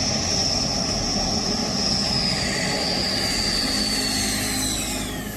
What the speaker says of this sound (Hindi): रफाल लड़ाकू विमान से डरा पाकिस्तान।